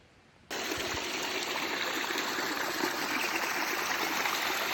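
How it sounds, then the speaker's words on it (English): A small mountain brook on the Appalachian Trail in New Hampshire runs over rocks, a steady loud rushing and splashing that starts suddenly after a quiet half second and then continues close by without pause. "One happy little brook."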